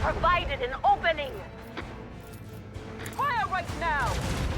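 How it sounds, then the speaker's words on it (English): Macro cannon volley fired in the Warhammer 40k Rogue Trader video game: several loud, abrupt blasts and crashes in quick succession beneath game voices and a player talking. "Macro cannons volley!"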